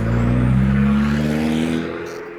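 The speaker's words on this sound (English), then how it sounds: "This sounds like a Urus SE with the hybrid V8." A Lamborghini Urus SE with a hybrid V8 drives by with a loud, steady engine drone that swells and then eases as the car moves away.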